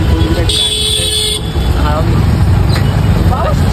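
Heavy street traffic at Dwarka in Nashik, India rumbles steadily while a loud vehicle horn blares for about a second, followed by fainter toots and nearby voices.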